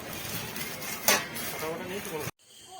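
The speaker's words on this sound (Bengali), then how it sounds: "5টা তো 5টা থালা নিচ্ছি।" Metal plates being picked up and handled clink and rattle up close at a market stall, with one sharper clatter partway through, while people talk over the handling.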